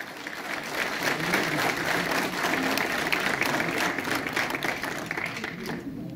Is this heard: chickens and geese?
no